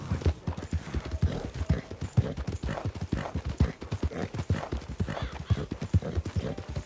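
A horse gallops in Red Dead Redemption 2, its hooves pounding in a fast, steady, continuous rhythm, loud and close, with no talking over it.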